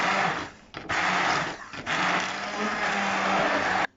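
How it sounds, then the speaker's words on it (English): A kitchen blender whirs through a pot of fish kedgeree curry sauce in loud, close bursts, briefly dipping twice as the blade catches, then cutting off sharply at the end. "Get your blender and blend away."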